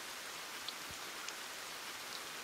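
Steady rain falls outdoors, a dense even hiss with a few scattered drops standing out, soft and continuous, with no voices.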